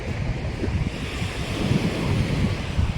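Sea waves washing onto the shore, a close steady roar of surf with gentle swells in loudness, mixed with wind buffeting the microphone and no speech.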